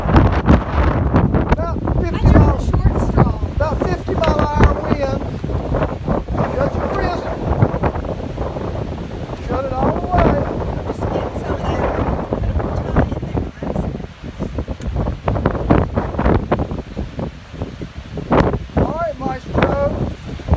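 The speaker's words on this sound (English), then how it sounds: "about 50 mile an hour wind" Strong wind of about 50 miles an hour buffets the microphone with a constant roar and gusts, while people talk over it close by.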